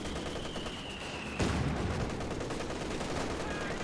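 Machine gun fire in the Company of Heroes 2 war game, with a steady rattle of battlefield gunfire and a whistling tone in the first part. A sharp, louder burst hits partway through, and dense firing continues afterward.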